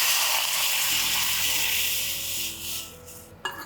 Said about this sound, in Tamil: சீரகமும் வெள்ளரி விதையும் வறுத்துட்டு அதோட தண்ணி சேர்த்துருக்கோம்